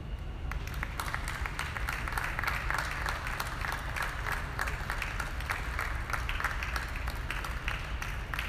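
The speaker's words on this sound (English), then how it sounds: "please give them a big round of applause" Audience applause fills an arena during a dairy cattle show, steady dense clapping from a large crowd that holds at an even level throughout.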